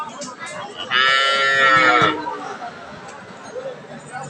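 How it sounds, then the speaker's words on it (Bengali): A cross-breed dairy cow at a cattle market lets out one loud, drawn-out moo lasting about a second, close by, over a low murmur of people talking in the background. "এটা একটা ক্রস জাতের গাভী"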